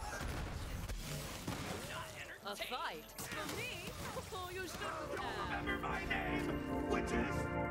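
Repeated Hellwalker shotgun blasts in Borderlands 3 while mowing down crowds of enemies, dense bursts of gunfire layered with explosions, game music and enemy voices, loud and continuous throughout.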